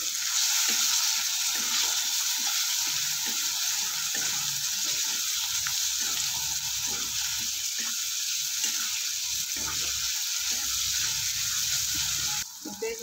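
Chopped tomato sizzles and fries steadily in a hot pan for Maharashtrian bitter gourd (karela) bhaji, with a constant bright hiss broken by soft stirring scrapes, close and continuous throughout with no talk.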